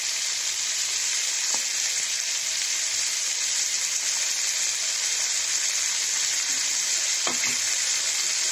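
Kundru (ivy gourd) sautéing with poppy seed paste in a pan gives a continuous loud sizzle, with a couple of faint utensil taps near the start and end.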